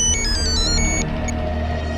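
A phone ringtone in a crime drama scene, a short electronic melody of bright repeated beeping notes for about a second, followed by a quieter single tone over a low background hum.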